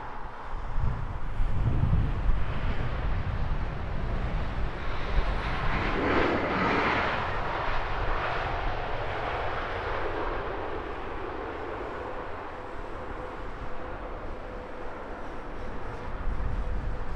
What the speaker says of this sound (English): Nice livery on the Oman Air Dreamliner about to touch down.